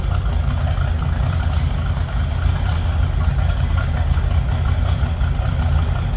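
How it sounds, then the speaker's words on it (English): Late-1960s Corvette 327 V8 idling in a 1938 Chevrolet two-door sedan street rod, giving a steady, close, low rumbling burble that continues evenly throughout with no talking. "Little rumble coming out of that 327"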